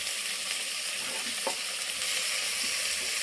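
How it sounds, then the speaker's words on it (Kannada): Chopped tomatoes frying and being stirred in a hot pan for chicken biryani, a loud, close, continuous sizzle with a brief stirring scrape partway through and no speech. "ಇವಾಗ ಚಾಪ್ ಮಾಡಿರೋ ಟೊಮೆಟೊ ಹಾಕ್ತಾಯಿದ್ದೀವಿ."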